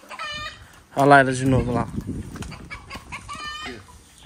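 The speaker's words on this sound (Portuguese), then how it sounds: "Nós mostrando as galinhas." Farm chickens cluck and cackle in several bursts, one loud close call standing out, while people chat in Portuguese over and between the calls.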